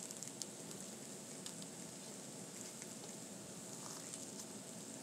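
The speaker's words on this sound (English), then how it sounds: "These are just some peppers we got going over here." Peppers sizzling steadily on a flattop griddle, a dense continuous fry with small crackles and pops, close and fairly quiet with no talk over it.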